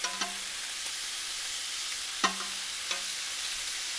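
Butterflied shrimp basted with chili Fresno butter sizzle on a hot grill pan, a steady hissing broken by a few soft clinks and taps.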